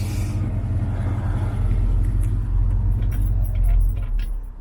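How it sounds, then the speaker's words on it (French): A big 400 cubic inch V8 in a 1968 Pontiac Firebird idles with a deep, steady low rumble, loud and close, holding an even throb for several seconds with no talk over it. "ce très très joli son que la voiture émet, que le gros V8 de 400 cubic inch émet"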